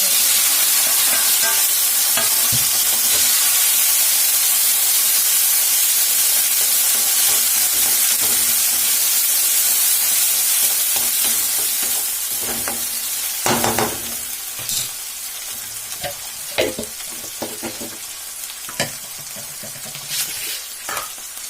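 Curry leaves and tomato hitting hot oil in a home kitchen pan: a loud, dense crackling sizzle that fills the first half, then eases into a lower hiss broken by spatula scrapes and knocks.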